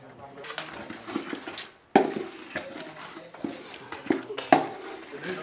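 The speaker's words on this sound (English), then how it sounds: "I'll add it to it and then give it a quick stir" A spoon scrapes and clinks in a cooking pot as blended ginger, onion and garlic are stirred in with dry fish for Ghanaian light soup, in quick irregular knocks close by.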